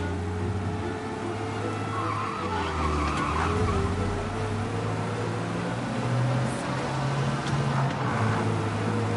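A car skids during a police chase in the video game Mafia: Definitive Edition, with a long tire squeal over a constant engine drone. Music plays underneath.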